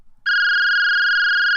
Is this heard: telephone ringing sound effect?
yes